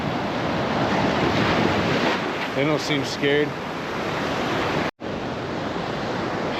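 Ocean waves crash and wash continuously on Myrtle Beach, a loud surf roar with wind noise, briefly overlaid by someone speaking before a sudden dropout.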